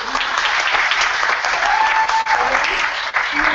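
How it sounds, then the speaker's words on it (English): Audience applause at a university event presentation, a loud, dense burst of clapping from a crowd filling the whole moment. "give him a round of applause"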